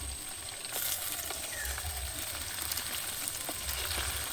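Potatoes frying slowly in a clay kadai outdoors in a field give a steady close sizzle with scattered stirring scrapes and small crackles, and no voices.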